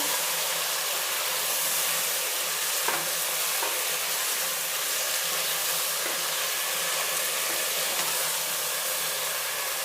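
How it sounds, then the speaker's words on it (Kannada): Ground onion-tomato masala paste frying in oil for stuffed brinjal curry, a steady close sizzle and hiss with occasional faint stirring clicks, no voices. "ಈ ಮಸಾಲೆ ಎಲ್ಲ ಒಂದು ಎರಡು ಮೂರು ನಿಮಿಷ ಎಣ್ಣೆಲಿ ಫ್ರೈ ಮಾಡಬೇಕು"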